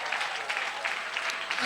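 Brief burst of congregation applause during a Sunday church service, steady fairly faint clapping heard alone without talk.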